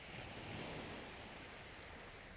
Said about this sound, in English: right in front of the ocean, and you can listen to the sound of waves